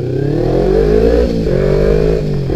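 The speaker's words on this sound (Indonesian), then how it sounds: "bunyinya dua silinder tuh emang enak ya" A two-cylinder Kawasaki Ninja 250 motorcycle engine revs up close and loud, its throaty pitch climbing and dropping in a few rising pulls.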